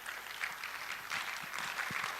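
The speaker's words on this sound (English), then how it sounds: "Please, louder, louder clap, louder, louder, louder, louder." Audience applause at the annual general and scientific meeting of the Ghana College of Physicians, a dense, sustained clapping from a hall crowd, moderately distant and fairly faint.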